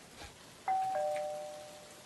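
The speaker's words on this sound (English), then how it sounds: "ring the doorbell" Doorbell chime in a SpongeBob video game, a single clear two-tone ding that rings out and slowly fades, heard alone with no talk.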